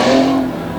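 A race car engine screams high against its rev limiter during Renegade MTT racing at Selinsgrove, Pennsylvania, one loud sustained roar that eases slightly at the end, close and alone.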